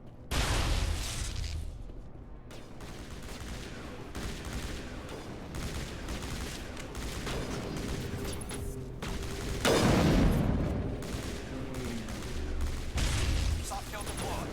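Gunfire in Mass Effect Legendary Edition, sustained rapid bursts of shots with a heavier blast partway through, loud and dense over game sounds.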